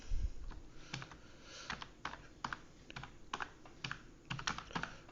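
Typing on a computer keyboard while working in LibreOffice, a run of quick irregular key clicks in small bursts, close and fairly quiet.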